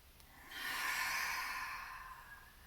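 One slow, deep inhale through the nose during a beginner yoga session, a soft, steady airy breath that swells and fades, close and quiet with no talking.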